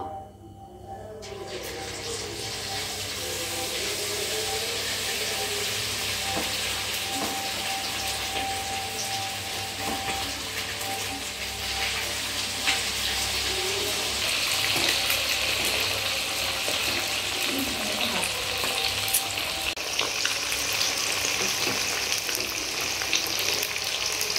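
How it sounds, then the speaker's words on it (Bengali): Chicken pieces for chilli chicken sizzle steadily in hot oil in a pan, a loud, continuous frying hiss that fills the whole stretch with no talk over it. "চিলি চিকেনের জন্য মাংসটা এবার আমরা ভেজে নেব।"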